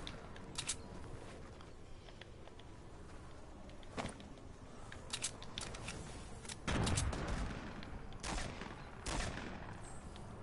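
Bursts of gunfire in a multiplayer shooter video game, with sharp shots scattered across the clip and a louder cluster near the middle, over steady game ambience.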